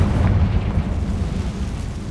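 A Confringo blasting spell goes off in the video game Hogwarts Legacy with a deep, rumbling explosive roar that starts strong and slowly fades over about two seconds.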